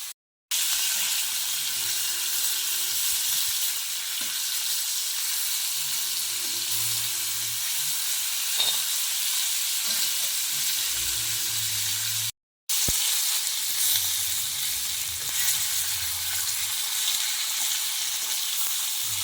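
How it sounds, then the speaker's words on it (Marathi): Mahseer fish frying in a pan with salt, masala, turmeric and kokum in a village kitchen, a steady close sizzle running almost continuously with one brief break midway and faint stirring clatter, no talk. "मच्छीला काय फ्राय करायला जास्त वेळ जात नाही"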